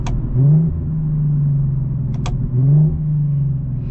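An Infiniti G37's loud, modified engine drones steadily and then rises in two quick revving blips, as a downshift would sound, heard from inside the vehicle, with no talking.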